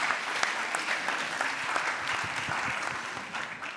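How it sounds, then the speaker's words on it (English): Audience at a political debate panel applauding a panelist, a steady broadband patter of many hands clapping throughout, moderately loud and continuous with no talk over it. "yeah, give him a round of applause."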